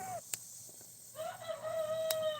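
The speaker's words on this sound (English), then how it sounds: "That would be the baby rooster." A young rooster gives a thin, wavering attempt at crowing in the background of a backyard poultry yard with geese and chickens, fairly faint and rising in two short strained calls.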